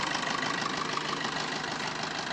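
2016 Maruti Suzuki Swift Dzire VDI diesel engine with 85,000 km on it, idling with a steady, even rumbling clatter throughout and no voices.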